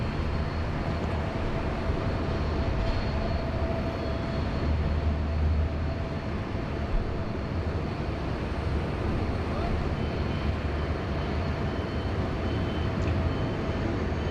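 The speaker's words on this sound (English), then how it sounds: "Just got the Malaysian 330-300 there lining up on 16 right, heading back to Kuala Lumpur" Malaysia Airlines Airbus A330-300 lining up on runway 16 right at Sydney Airport, heard as a steady, broad engine roar and rumble that holds for the whole stretch at a distance, with no talk over it.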